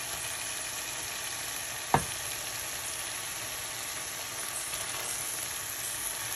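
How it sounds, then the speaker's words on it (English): Shrimps fry in a pan for a pasta sauce with a steady, even sizzle and a single sharp clink near the start. "Now I'm going to be adding the shrimps"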